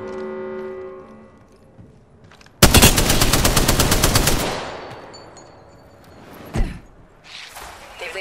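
Automatic gunfire in the Apex Legends video game, a loud, rapid burst of close shots lasting a couple of seconds after a quieter stretch, then a single sharp shot and lighter game sounds.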